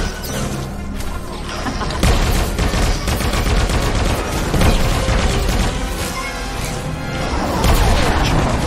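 Dense video-game gunfire and explosions rage nonstop while the ST-97 is destroyed during the Tatooine Heroic mission Reap the Whirlwind, with rapid shots and crashing blasts layered loudly throughout.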